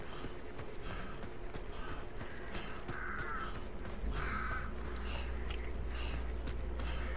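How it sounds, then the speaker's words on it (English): Crows caw repeatedly in Hunt: Showdown, harsh calls near and far in irregular bursts over a low ambient rumble, with soft footsteps in places. "There's just literally every crow ever in my way"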